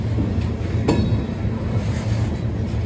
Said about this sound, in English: There are a lot of trains in these parts of the woods.